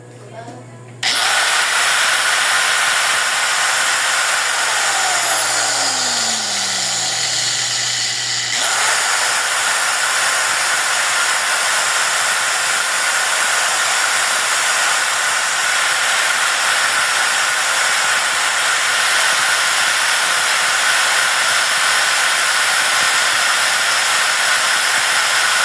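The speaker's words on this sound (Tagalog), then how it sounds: "So next power tool natin is grinder." A JIANSHUN 5000-watt power tool rig drives an angle grinder, which spins up sharply and then holds a loud, steady, high-pitched whine with hiss, running continuously and close with no pauses.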